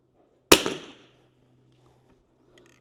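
A single sharp crack from a .22LR rimfire rifle firing a sighter shot with Lapua ammunition, close and loud, decaying quickly into quiet.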